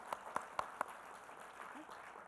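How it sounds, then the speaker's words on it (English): Only four sharp, evenly spaced hand claps ring out at a patient conference on atrial fibrillation, a sparse and fairly quiet start of applause for event sponsors over a soft room hum. "So would you please give our sponsors a round of applause for providing this event?"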